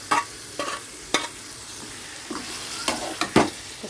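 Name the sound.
marinated chicken stirred while frying in a pan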